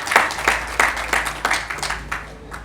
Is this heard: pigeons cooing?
no